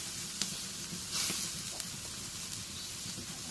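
Garam masala and cumin paste frying in a hot pan with a steady, close sizzle, punctuated by a few sharp crackles and a brief louder hiss as the paste is stirred.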